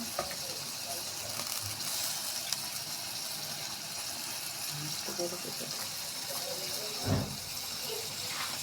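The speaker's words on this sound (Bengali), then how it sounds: "সুন্দর করে কেটে ধুয়ে নিচ্ছি" Freshly cut small river fish are rinsed under running water, a steady close wash with a few splashes and clatters, and a brief louder gush near the end.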